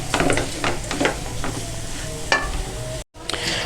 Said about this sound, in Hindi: अब हम इसको मिक्स करेंगे और ये वाली जो हमारी वेजिटेबल है ये भी इसके अंदर मिक्स कर देंगे अच्छे तरीके से